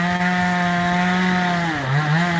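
Chainsaw running steadily, a loud continuous buzzing drone that dips briefly in pitch near the end as it loads up, with no talk over it.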